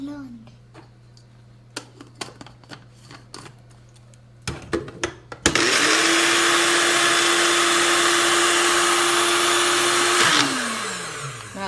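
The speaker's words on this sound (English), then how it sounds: "And first I'll be grinding it without water." A mixer grinder whirs loudly as it blends cucumber chutney paste, starting suddenly after a few light clicks and taps, holding a steady high whine for about five seconds, then winding down.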